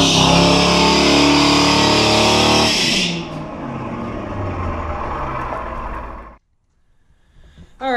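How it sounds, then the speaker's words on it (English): A Corvette on worn tires does a burnout on smooth garage concrete: the engine roars loud and close as the tires spin and hiss, then the noise drops away abruptly into near silence before a brief final burst. "the back tires just keep blowing off, but the front tires aren't getting any traction on the concrete right now"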